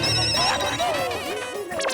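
A telephone rings with a bright, warbling electronic trill that repeats at close range, with busy background sound and voices mixed in underneath.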